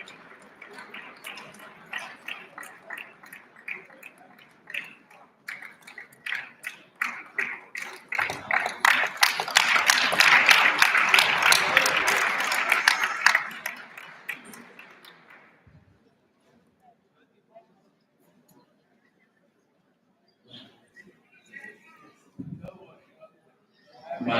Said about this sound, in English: Please let's keep applauding him as he comes forward